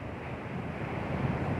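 Cold wind blows outdoors as an unbroken, fairly loud rushing roar buffeting the microphone, with no voices over it.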